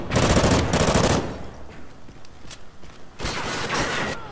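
Automatic weapon fire in Call of Duty Ghosts, Gun Game mode: a long rapid burst, a lighter scatter of shots and footsteps, then another sustained burst, loud and close with no talk.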